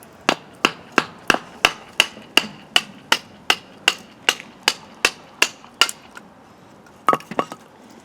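Knife spine struck repeatedly while batoning wood to split kindling: about fifteen sharp, evenly spaced knocks, then a quick double hit, close and crisp.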